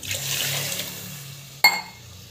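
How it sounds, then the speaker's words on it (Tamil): Water pours steadily into a cooking pot holding rice, a soft rushing splash for over a second that ends with a sharp metallic clank. "ஸோ இது ஒரு டம்ளர் ரைஸ் போட்டு 2 டம்ளர் வாட்டர் வந்து போட்டுக்கலாம்."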